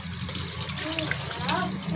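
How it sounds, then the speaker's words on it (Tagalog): Tap water runs steadily while tilapia fish are washed, a continuous close splashing trickle with no breaks. "hugasan na natin yung ating tilapia para maluto na natin"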